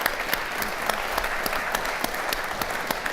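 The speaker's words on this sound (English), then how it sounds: "Let's give a round of applause and see them off." A panel audience gives a loud, dense round of applause as the panelists leave the stage after a discussion of contested elections, a steady crackling clatter with sharp individual claps poking through.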